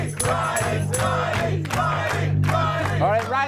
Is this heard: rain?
no